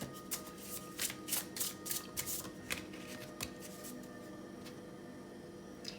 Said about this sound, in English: But I'll pull one more card.